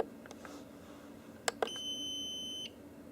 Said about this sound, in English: we should do a UPS alarm test